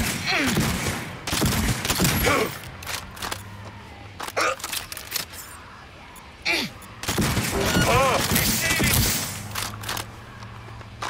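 Gunfire from a weapon in the video game Cyberpunk 2077, loud rapid bursts in two main clusters separated by quieter gaps, mixed with voice-like groans and shouts.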